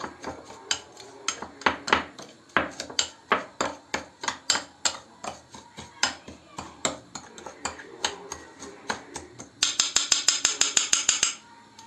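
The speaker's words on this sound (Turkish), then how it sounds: "Şimdi bunu güzelce karıştırıyoruz." A spoon stirs a cleaning mixture containing a tablespoon of oil in a bowl, meant for scrubbing a badly burnt pot. Steady rhythmic clinks scrape against the bowl and speed into a rapid, brighter flurry at the end.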